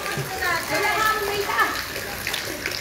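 Strong floodwater current rushing through a flooded street channel in Cabanatuan City, a steady broadband gush of water with splashing, close and continuous, with voices talking over it.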